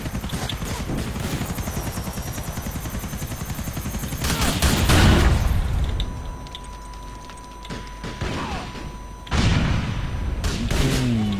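Fireworks and explosive bursts in GTA IV, a dense crackling barrage with loud booms swelling around the middle, easing off, then flaring again near the end, with a helicopter rotor drone underneath.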